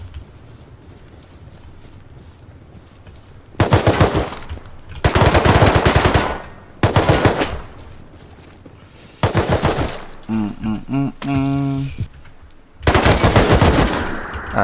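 Gunfire in the Rust video game, heard loud and close as several bursts of rapid automatic fire separated by short pauses, with a brief tonal electronic warble in between, no voices.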